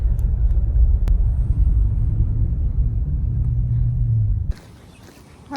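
A car drives through a small historic town in Hawaii, heard from inside as a steady low road and engine rumble that cuts off abruptly near the end, leaving a quieter background.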